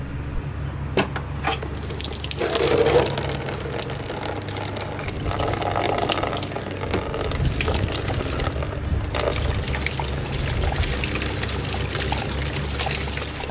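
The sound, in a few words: water spraying, washing Alfa Romeo 156 GTA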